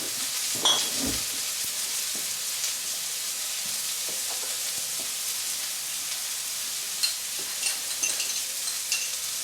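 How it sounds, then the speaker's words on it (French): Vegetables stir-frying in oil in a wok after a little more oil is added, giving a steady, dense sizzle with occasional soft stirring knocks and no talking. "Je vais rajouter un petit peu d'huile, vu que j'en ai pas mis beaucoup au départ, histoire de bien saisir."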